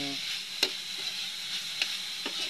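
Sliced bitter gourd (ampalaya) fries and is half-cooked in a pan at home, with a soft continuous sizzle and a few sharp utensil clicks as it is stirred.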